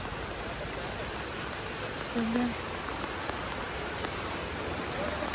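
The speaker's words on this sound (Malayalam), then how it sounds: "ഫുൾ മഴയുടെ ബഹളം എല്ലായിടത്തും" Steady heavy rain hisses across the whole stretch in Vadakkencherry, Kerala, during flooding, a dense even wash of noise with a brief faint tone partway through.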